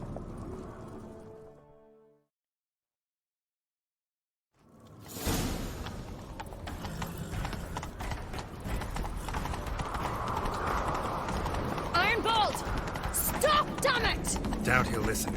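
Horse hooves gallop steadily and close in the Witcher 3 video game, a rapid clip-clop rhythm that starts after a brief silence and carries on with whooshing motion sounds around it.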